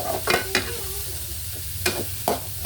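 Chopped onions, garlic and shallots frying and being stirred in a pan, a steady close sizzle broken by several sharp scraping stirs of the spatula.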